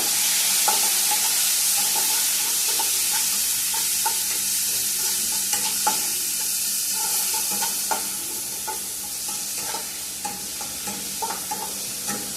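Sliced onions sizzle in a pan on a steady, bright hiss, while repeated scrapes and taps of a spatula stir them at an irregular pace, close by and without any voices.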